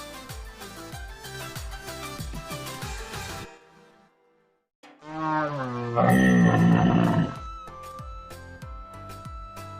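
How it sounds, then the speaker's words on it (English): A camel gives a deep, rough, groaning roar lasting a couple of seconds. It rises loud over a steady rhythmic music backing after a brief pause. "camel,"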